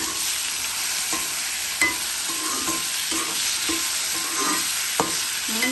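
Green chillies frying in hot oil in an iron pan, a steady dense sizzle with occasional stirring scrapes and small pops, close and continuous with no voices.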